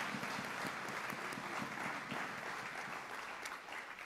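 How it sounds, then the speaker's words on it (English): Applause for the technology staff at a law school commencement ceremony: a dense, even wash of many hands clapping together, fairly faint and distant, holding steady with no voices over it. "So please, let's give them a round of applause."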